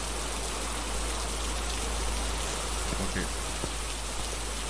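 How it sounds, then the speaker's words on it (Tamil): Rain falls in the horror video game Phasmophobia as a steady, soft hiss of drops spread evenly across the whole stretch, with a low constant hum beneath and a brief spoken word over it. "மழை பெய்யுது"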